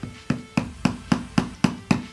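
Seven sharp, evenly spaced hammer taps on wooden sticks being driven into apples, each a crisp knock with a quick decay, close and alone with no talk.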